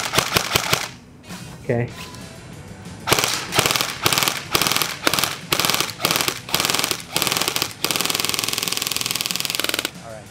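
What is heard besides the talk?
airsoft gun shooting a melon at 25 feet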